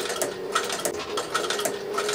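A leather sewing machine stitches a small leather tongue onto the ends of a tool roll strap. It gives a fast, even mechanical rattle with faint ticking clicks, close and continuous.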